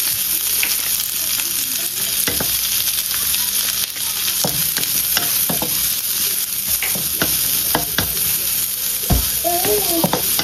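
Fried rice sizzles steadily in a hot pan while a spatula scrapes and stirs it, giving scattered clinks and scrapes over a constant frying hiss.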